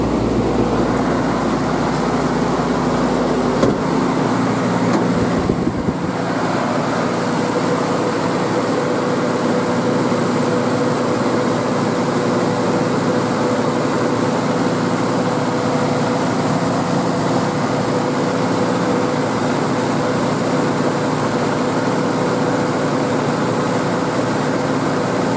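Engine of a 1989-1995 Toyota pickup idling with the A/C switched on high, a loud, steady drone with a brief shift in tone early on, then an even hum to the end, no speech.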